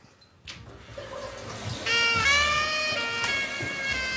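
A tap is turned on for a blindfolded science game, starting with a clunk and then a steady rushing stream of water with a rising hiss, close by and fairly loud, no talking.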